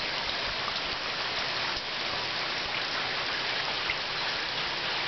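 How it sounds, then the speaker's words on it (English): Light rain sprinkles steadily outdoors in the evening around eight o'clock, an even soft hiss of drops on surfaces with no voices. "It's a little bit of sprinkling water."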